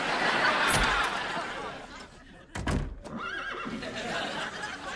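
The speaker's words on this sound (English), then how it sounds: "Was that a horse nay" A horse neighs loudly in a sitcom scene, a sharp, shrill whinny that cuts in midway after a muffled stretch and then tails off, with faint background sound around it.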